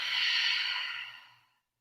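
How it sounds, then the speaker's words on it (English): A long, breathy exhale out through the mouth during a relaxing yoga cooldown, close and soft, swelling at first and then tapering away into silence. "Exhale out of your mouth."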